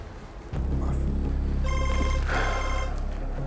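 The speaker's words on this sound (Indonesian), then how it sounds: "Saya izin angkat telepon" A telephone bell rings in a bright, trilling burst that starts after a brief pause, close and loud, with a faint voice underneath.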